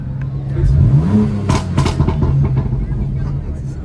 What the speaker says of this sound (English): Can I get a little rev, please?